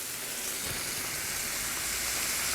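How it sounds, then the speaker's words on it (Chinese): Boiling water poured into stir-fried chilli and bean paste sauce in a hot wok, giving a dense, continuous hissing rush like heavy rain that holds steady and loud for the whole moment, with no voices. "炒出红油倒水，"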